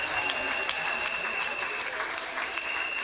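A church congregation claps and cheers in praise, a dense, steady wash of applause filling the room, with voices mixed in throughout.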